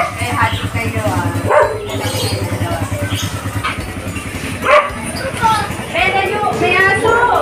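A dog barks sharply a few times, fairly close, while several people talk and laugh over a steady hum of background noise.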